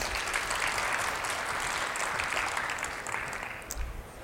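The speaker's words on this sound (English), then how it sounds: "Round of applause for Kirsten Hunter" Audience at the Akamai Edge 2017 developer general session applauds Kirsten Hunter, a steady wash of clapping from a large crowd that holds for about four seconds and slowly thins toward the end.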